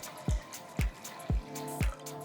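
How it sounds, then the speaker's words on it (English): Water poured into a deep cooking pot, heard as four evenly spaced splashing gulps that sit over a steady low liquid rush, close and clear with no talking. "To a nice deep pot, first I'm going to add water."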